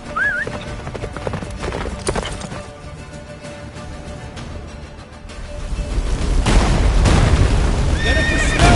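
A horse gallops and whinnies in a video game chase toward a fortress, hooves and a high neigh heard early, then a loud, dense rush of battle noise and impacts building toward the end.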